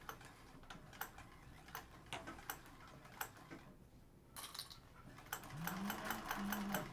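A sewing machine stitches bias tape onto fabric as a faint, quiet run of repeated ticking stitches, rising slightly near the end.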